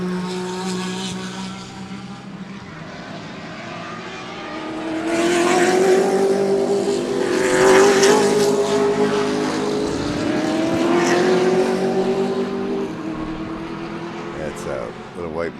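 Race cars roar around the Sebring track, including a Mustang riding up on the curbing and a big Grand National, engines rising and falling as cars pass near then fade, with one louder pass in the middle.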